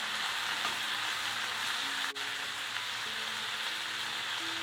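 Green peas for paneer bhurji fry in a pan with a steady, even sizzle close by, broken once by a sharp click, with no voices.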